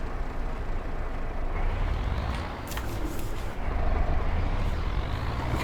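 Engine of a tractor in a farming video game, a loud steady low rumble with a brief hiss and some mechanical noise partway through, continuous and close.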